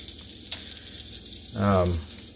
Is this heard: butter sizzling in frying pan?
yes